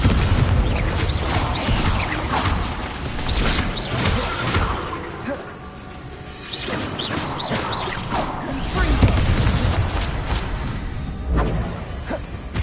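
Fire-blast spells burst in Hogwarts Legacy combat on PS4 with repeated loud, broadband booms and crashes. The rumble stays continuous and dips briefly midway, with no talk over it.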